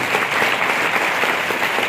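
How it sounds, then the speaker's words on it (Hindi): Dense, continuous audience applause at a seminar venue, loud and even for the full short span with no talk over it. "जोरदार तालियां दीजिए।"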